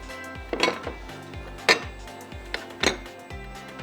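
Metal serving utensils clink and scrape against a dish as qeema matar biryani is spooned out, with three sharp, ringing knocks spaced about a second apart over a low kitchen background.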